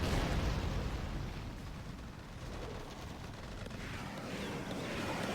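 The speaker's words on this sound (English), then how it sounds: "Probably blind firing to get this tunnel network, but was interrupted mid-barrage." Artillery barrage in the strategy game Rise of the Reds, heard as a rumbling, booming wash of distant explosions that is heaviest at the start and then continues as a lower, rolling roar.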